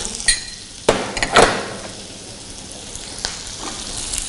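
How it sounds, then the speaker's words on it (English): Sliced onions hit melted butter in a pan, a few sharp crackles and a burst of sizzle near the start, then a steady soft frying hiss with light clinks, close and alone. "here goes in some sliced onions"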